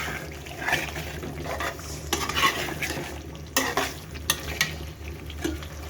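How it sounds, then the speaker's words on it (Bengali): Beef pieces cooking in a pot sizzle while a spoon stirs and scrapes them, giving several distinct knocks against the pot over a moderate, steady frying hiss. "আর একটু নাড়াচাড়া করে দেবো মাংসগুলোকে"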